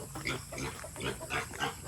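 Free-range piglets grunt in their farm pen, a run of short, close oinks repeating in quick bursts with no talking over them.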